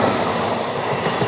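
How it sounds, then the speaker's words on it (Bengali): A Dankuni local train departing a station, seen from a stopped train, a close steady rumble with rattling wheel clatter throughout, brief and continuous. "ওই ডানকুনি লোকাল বেরিয়ে গেল।"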